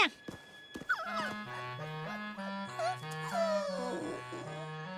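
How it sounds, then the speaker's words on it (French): Cartoon puppies whimper and yip in high, wavering cries over a bouncy musical backing, continuous and fairly close throughout. "Nos petits chiens n'ont pas l'air dans leur assiette."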